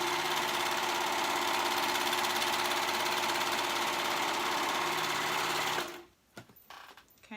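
Legging band pieces are joined along their short raw edge on a sewing machine: a loud, continuous, close-up motor whir runs for about six seconds, then stops, leaving a few faint handling clicks.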